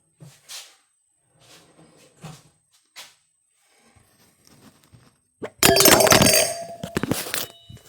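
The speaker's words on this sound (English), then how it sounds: "Almost created a glassy mess all over the kitchen." Glass jars in a kitchen knock and clink with a few light taps, then a sudden loud clattering crash of glass near the end, nearly breaking.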